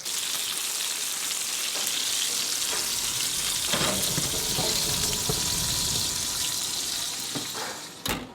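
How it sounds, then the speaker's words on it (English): A steak sears in hot oil in a pan, giving a steady, loud, continuous sizzle and crackle throughout, with a few brief clatters near the end and no talking. "2 minutes each side of the steak searing in the oil."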